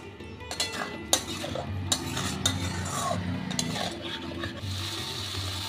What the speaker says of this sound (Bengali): লবণ দিয়ে ভালো করে কষিয়ে নেব।